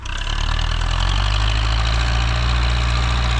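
A YUMZ D-240 tractor diesel engine runs close by, rising from a start into a loud, steady, throbbing idle with a deep low rumble and no voices.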